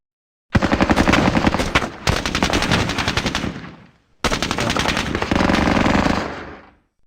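Machine gun fire in the Squad Battles Eagles Strike war game, two long loud bursts of rapid rattling shots separated by a short pause, each trailing off, with no talk.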